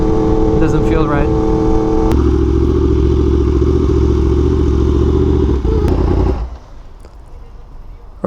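A Yamaha R1M sport motorcycle idles loud and close, its engine note shifting as the clutch and throttle are worked unevenly, steady rumble dropping sharply near the end as the revs fall away.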